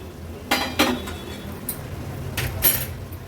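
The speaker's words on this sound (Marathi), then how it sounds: "झाकण काढून घेऊया" A lid comes off a cooking pot with two pairs of sharp metallic clinks and clatters, close by, separated by a short lull and soft background hiss.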